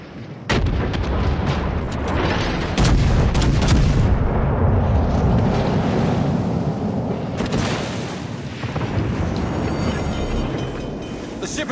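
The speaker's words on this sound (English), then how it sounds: "Concentrate fire on the enemy warship." Warship guns firing in the World of Warships naval battle game, loud continuous booming salvos and rumbling blasts layered with sharp reports, a dense and sustained barrage with game voice audio mixed in.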